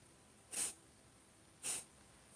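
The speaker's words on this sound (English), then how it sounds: "practice short exhales through the nose." Two short, sharp exhales through the nose during a breathing exercise, spaced about a second apart, close and clear against a quiet background.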